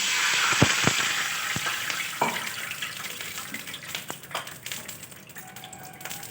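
Black cumin seeds crackle and sizzle loudly in hot oil right after water is splashed in, a dense steady hiss broken by sharp pops and spits near the start that slowly eases down.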